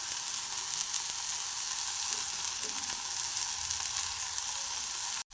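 Ingredients for egg biryani frying in a pan with a steady, even sizzle, close and fairly strong, with a couple of faint stirring taps, cutting off abruptly at the end, with no talk.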